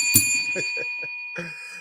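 A bell rings with a bright metallic strike and a steady ringing tone that lingers beneath the whole stretch, while someone talks over it nearby.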